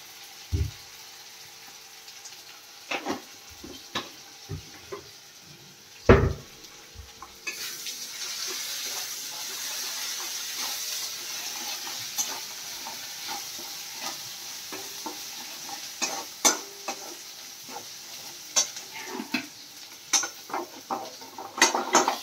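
An egg cutlet mixture is fried and stirred in a pan, giving a continuous soft sizzle with repeated utensil scrapes and clinks against the pan, fairly close and steady throughout, with no talking.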